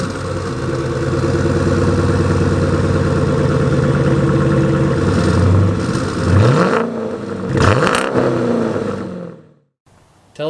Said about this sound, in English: I drive a 2016 Dodge Charger RT